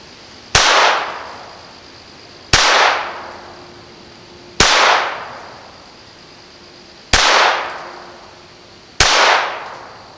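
A Taurus TX22 pistol loaded with standard velocity rounds fires five sharp, loud single shots about two seconds apart, each followed by a short ringing decay, with no talking.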